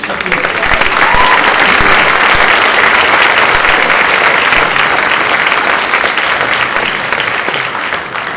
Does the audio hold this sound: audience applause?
yes